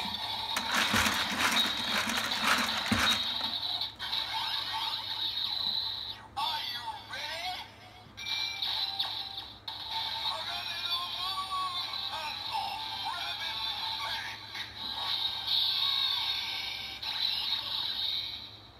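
A DX Build Driver toy belt from Kamen Rider Build, with its crank turned for the RabbitTank transformation, gives a loud ratcheting clatter and then a long electronic transformation tune that plays without a break and with no talk.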